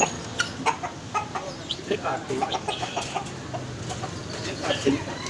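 Chinese breed chickens cluck in short, scattered bursts close by, while people talk intermittently in the background.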